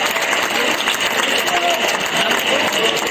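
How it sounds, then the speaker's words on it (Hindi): Steady, dense clapping from an audience at a school farewell programme, continuous and even throughout with no pauses, the crowd's applause filling the space. "जोरदार तालियां बजाइए"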